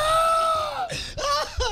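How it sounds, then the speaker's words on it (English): Short recording of goats screaming, loud drawn-out cries that bend downward and then break into several quick, human-like wails. "Ladies and gentlemen, the original screaming goats!"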